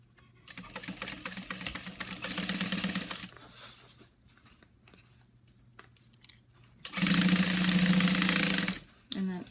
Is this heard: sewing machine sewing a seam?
yes